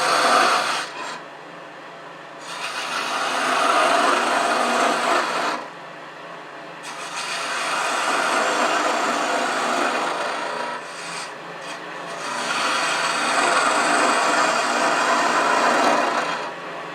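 A gouge cuts away wood on a lathe while turning a replica St Patrick's cross, making a steady broadband rasping hiss that comes in three long, close passes separated by short pauses, with no talking.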